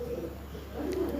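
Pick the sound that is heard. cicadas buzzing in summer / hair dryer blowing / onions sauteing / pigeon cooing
pigeon cooing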